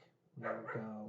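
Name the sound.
dog barking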